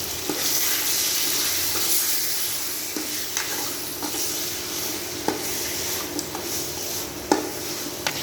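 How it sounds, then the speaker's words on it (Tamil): Chicken pieces roasting in hot oil for Madurai-style chicken chukka, stirred in the pan: a continuous loud sizzle broken by occasional sharp clicks and scrapes of the spoon against the pan, close by with no talk. "அந்த சிக்கனை ஆட் பண்ணிக்கலாம் நல்லா அந்த எண்ணெய் எல்லாமே இது மேலே ரோஸ்ட் ஆகிற மாதிரி ஒரு கலர் கிளறி விட்டுலாங்க"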